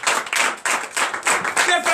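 A church congregation at a night deliverance service claps in strong, loud bursts with a steady rhythm, close and energetic, with voices mixed in.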